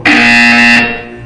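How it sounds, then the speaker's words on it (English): A loud, harsh electronic buzzer from the video game Portal 2 sounds once in a steady blare of just under a second, then cuts off, leaving a low hum. "When you hear the buzzer, look down at the floor."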